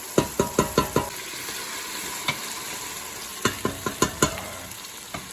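Onions and garlic sizzling in a pan as the base for seafood risotto, with repeated sharp clacks of a spoon stirring against the pan in quick bursts.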